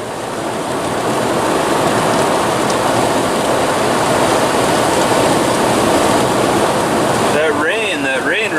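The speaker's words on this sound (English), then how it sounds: "That rain really brought out the noise." Heavy rain drumming on a car while driving toward Deer Lodge, Montana, a loud steady wash of road and rain noise, with a brief high warbling tone near the end.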